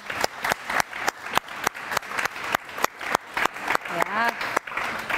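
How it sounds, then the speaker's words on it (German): Studio audience applause on a German film talk show, steady clapping with sharp rhythmic claps standing out, close and fairly loud, with a voice briefly speaking over it. "Applaus nochmal für Sarah Lisa"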